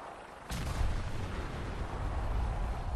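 Gunfire and explosions in the video game Fallout 4: after a quieter lead-in, a sudden loud blast sets off a continuous roar of heavy booming fire and rumbling detonations that persists to the end.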